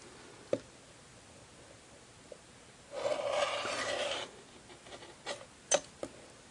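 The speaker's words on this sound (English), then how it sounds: "So I'm going to take my cutter and I'm going to trim across here." A rotary cutter rolls across quilt fabric along a ruler, making one steady, close rasping stroke of about a second, with a few light clicks and taps before and after.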